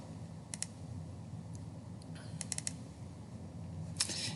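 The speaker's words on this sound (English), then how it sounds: "You're going to double click on it" Computer mouse clicks in a quiet room: a few faint, crisp double clicks spaced across a few seconds over a low steady hum.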